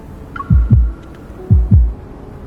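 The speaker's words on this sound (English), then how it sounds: "I hear my own heartbeat in the silence" A heartbeat sound effect thumps in near silence, two double lub-dub beats, deep, loud and evenly spaced.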